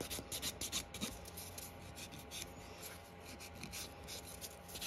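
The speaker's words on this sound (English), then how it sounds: "Just buffing it a little bit, and then we're gonna go ahead and put a base coat on and then the top coat." Fingernails being buffed with a nail buffer before a base coat, a soft steady rubbing rasp with quick repeated strokes, close and fairly quiet, no talking.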